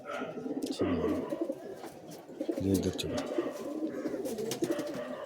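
Pigeons, including a male, coo in low rounded phrases that recur through a busy yard, with someone talking over them.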